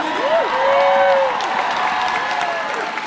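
A crowd at an outdoor Women's March rally in Hartford claps and cheers loudly in a steady burst, with whoops and shouts rising over the applause.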